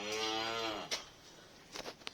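On a farm, a cow moos once with a drawn-out, lowing call that fades away, followed by a few brief faint knocks and rustles in a quiet setting.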